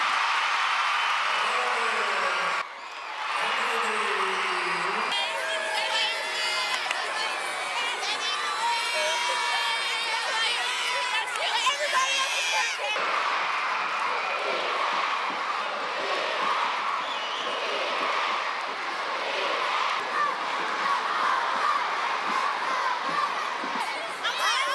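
Crowd at a college women's basketball game, Lady Raiders versus Kennesaw State Owls, cheering and shouting loudly with whoops and children's yells, sustained throughout with bursts of brighter noise and music-like tones mid-way.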